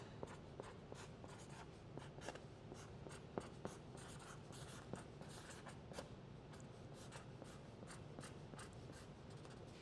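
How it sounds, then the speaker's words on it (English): A Sharpie marker squeaks and scratches across a wrapped art package, close and quiet, in quick, repeated short strokes that continue steadily throughout. "So get a Sharpie. We're going to write that on."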